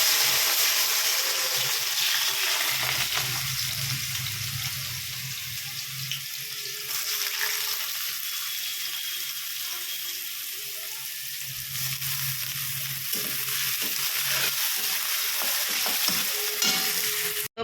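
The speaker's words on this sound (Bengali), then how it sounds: "আর এখানে আলুটা ঝপাঝপ ভাজি, কেন কড়াইতে কিন্তু আমি তেল দিয়ে দিয়েছি।" Potatoes fry in oil in a wok, a steady near sizzle running throughout with occasional stirring knocks and shifts in intensity.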